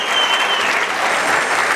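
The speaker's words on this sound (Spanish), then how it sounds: "Denle un aplauso, señoras y señores." Rodeo crowd applauding, a dense, steady wash of clapping from a large audience at a Mexican rodeo, loud and continuous throughout.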